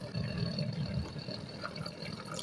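Water pours and splashes into a cooking pot as onion and garlic go in for a meatless pumpkin vegetable soup, a soft continuous liquid rush heard faintly with no talk.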